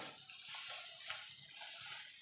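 Ground spices sautéing with ginger, garlic and onion in a pan for begun bharta. A soft, steady sizzle with faint stirring, fairly quiet and without voices.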